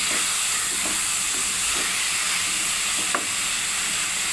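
Bitter gourd and katla fish fry together in a pan for a curry, giving a constant close hiss and sizzle with a few faint stirring taps and no voices.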